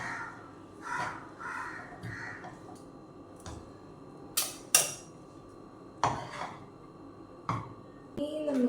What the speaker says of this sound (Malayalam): ആദ്യം ഇത്രയൊന്ന് ആഡ് ചെയ്ത് നമുക്കൊന്ന് മിക്സ് ചെയ്യാം.